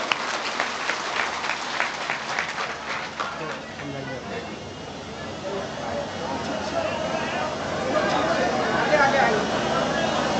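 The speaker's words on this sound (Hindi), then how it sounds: "तालियों से आप उनका स्वागत करें।" Crowd applause welcoming a state road construction minister at a road inauguration event, a broad, steady clatter of many hands that lasts throughout, swelling louder toward the end, with a public-address voice and murmur underneath.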